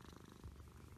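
A house cat purrs close by in a steady, low rhythmic rumble that continues for about a second, with no talking over it.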